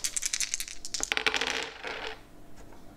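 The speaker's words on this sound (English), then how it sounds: "So she gets to roll 4 dice." Four dice rolled for an attack in the Star Saga board game, a quick rattling clatter of several hard dice tumbling and bouncing on a surface, settling after about two seconds, with no talk.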